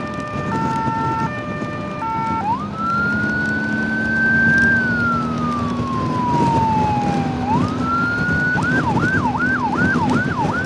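Blood Bikes Hungary emergency motorcycle siren in traffic, loud and close, shifting from a hi-lo two-tone to a long slow wail and then a fast yelp, over a steady engine hum.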